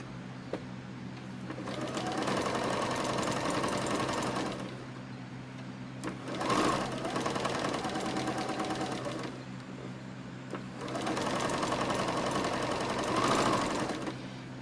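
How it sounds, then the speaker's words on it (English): A sewing machine top-stitches the fabric wings of a stuffed bat in two long bursts of fast, steady whirring, with a short pause between, heard close and fairly quiet. "I'm top stitching their wings because I want them to be able to stick out straight from the animal just a little bit."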